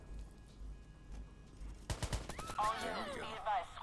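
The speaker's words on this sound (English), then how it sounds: "Help! People are shooting! Come quick!" Gunfire in the video game Watch Dogs, starting abruptly as a rapid burst of shots over a low hum and continuing amid noisy game effects, with a voice mixed in.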